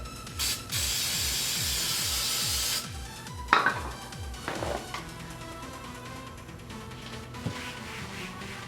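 Brake parts cleaner sprayed from an aerosol can onto faded plastic trim: a short hiss, then a longer steady two-second blast, followed by scattered clicks and clatter, with no talking.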